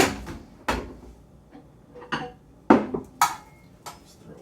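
A small soup spoon is pulled from a kitchen drawer, with a series of sharp metallic clinks and rattles of cutlery and a drawer sliding, close and fairly loud, spread over a few seconds with no talking.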